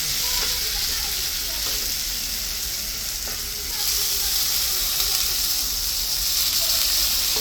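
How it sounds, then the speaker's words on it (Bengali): Water poured into a pan of well-fried spiced masala for a fish curry, setting off a loud, steady sizzle and hiss of frying and steam that runs throughout. "এখন ঝোলের জন্য জল দিয়ে দেবো"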